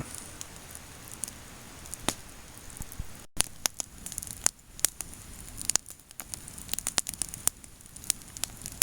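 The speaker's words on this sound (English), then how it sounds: "There's nothing like a snapping fire." A campfire on a canoe camping trip snaps and crackles with irregular sharp pops over a soft, steady hiss, close and fairly loud.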